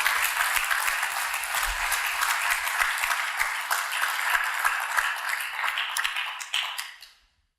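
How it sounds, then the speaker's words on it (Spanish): A congregation applauds the Lord during a church service, a broad, sustained wash of clapping that holds steady at full strength and then stops abruptly. "dale un fuerte aplauso al Señor"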